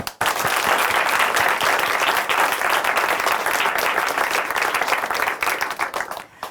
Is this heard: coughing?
no